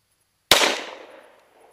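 One sharp gunshot fired at a target 25 yards away, a sudden loud crack that decays over about a second, with silence before it and no talk.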